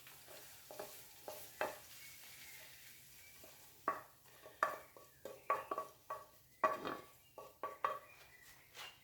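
Onions, zucchini and bacon lardons cooking in a frying pan for a zucchini quiche: a low, steady sizzle beneath irregular, close scrapes and clacks of a utensil stirring the pan, growing busier partway through, with no talking.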